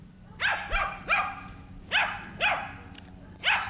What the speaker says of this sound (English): Stop barking, doggy.